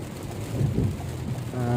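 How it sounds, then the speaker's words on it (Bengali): Heavy April rain with thunder in Arabia: a steady wash of rain under low rumbling, with a tonal hum rising near the end of the short stretch. "প্রচুর বৃষ্টি হচ্ছে, গতকাল রাত 11টা থেকে শুরু হয়েছে"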